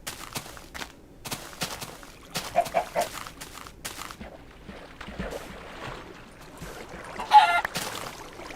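Faint clucking of a Minecraft chicken (Alpha 1.1) in a few short bursts amid quiet game sounds and scattered clicks, one clearer cluck near the end.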